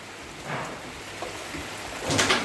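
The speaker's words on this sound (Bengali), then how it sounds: "এই যে বৃষ্টি এসে গেছে" Rain falls outdoors near a wood-fired stove, making a steady broadband patter that swells louder toward the end, with no talking.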